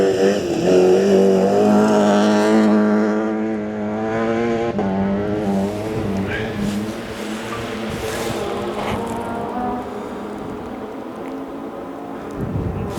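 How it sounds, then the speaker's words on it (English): A rally car powers round a corner on a forest stage at Gale Rigg, engine rising through loud revs close by, then fading as it pulls away down the track, with faint background rumble. "car coming round the corner into lots of space"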